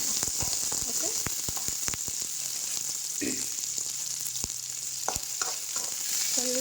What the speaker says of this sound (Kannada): ಇದನ್ನು ಚೆನ್ನಾಗಿ ಹಸಿ ವಾಸನೆ ಹೋಗೋವರೆಗೂ ಫ್ರೈ ಮಾಡ್ಕೊಳ್ಳೋಣ